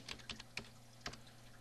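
A computer keyboard is typed on quietly, a few sharp separate keystrokes spaced unevenly over a low background hum.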